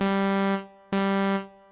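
Synthesizer tone with added noise, two sustained buzzy notes of about half a second each with a hissy edge, separated by a short gap and cut off sharply, close and loud.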